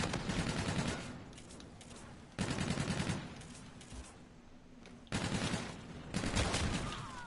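Rapid volleys of M1 Garand rifle fire in a shooter video game come in three dense bursts, loud and close, with no talking over them.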